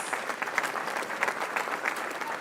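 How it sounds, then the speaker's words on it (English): Studio audience at a radio station applauding to welcome a composer, steady bright clapping from a modest crowd with audible individual claps, continuous and moderately loud. "Please, let's welcome Seprewa with a round of applause."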